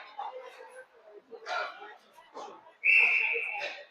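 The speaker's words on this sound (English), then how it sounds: "We'll get another whistle." A referee's whistle shrills briefly near the end during an ice hockey game between Edina White and Minnetonka Black, a single bright sustained blast amid faint arena chatter and scattered rink noises.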